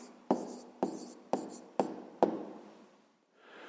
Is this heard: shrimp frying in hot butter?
no